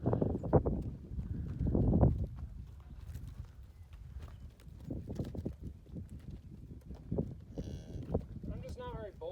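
A cow and her newborn calf moo in a spring calving pen, low calls repeating under a voice, with hoof shuffling and a few higher bleat-like cries near the end.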